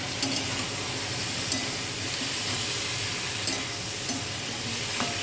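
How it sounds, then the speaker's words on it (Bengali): Steady, close sizzling of cumin and dried red chilies frying in hot oil, with a few faint clinks of stirring, and no voices. "এটা ভাজা হচ্ছে"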